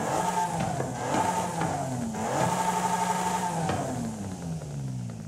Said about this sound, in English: Now sport intake. You can hear the induction noise a little more.